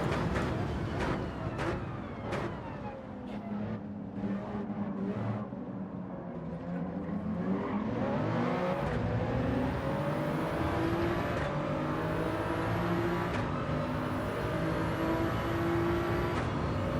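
Race car engines in Gran Turismo 7 whine and shift steadily for the whole stretch, with several distinct gear changes and passing engine tones, continuous and fairly loud.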